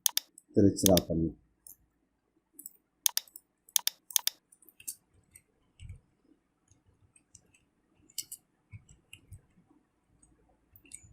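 Clicky typing on a computer keyboard in scattered short bursts of keystrokes, fairly close and quiet, with a brief spoken word near the start.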